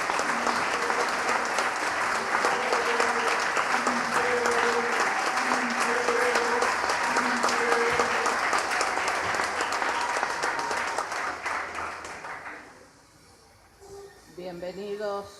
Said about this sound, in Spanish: muy bienvenido el aplauso de los compañeros para la Universidad